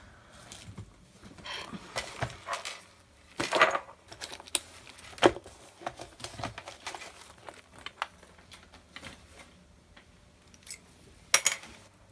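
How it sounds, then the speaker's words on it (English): Paper crinkles and snips in an irregular sequence of soft, close rustles and clicks while scissors trim a paper tree for a Stampin' Up Christmas sweety jar craft. "I'm going to trim off this tree. Go and find my scissors."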